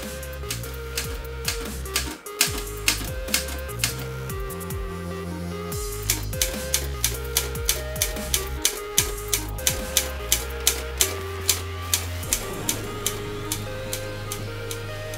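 A typewriter is typed on to test a freshly re-inked ribbon, a steady run of crisp close key strikes with mechanical clatter and occasional carriage movement.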